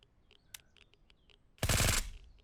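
A burst of automatic rifle fire from the Surroundead video game erupts loud and dense for about half a second, following a few faint, scattered clicks and chirps.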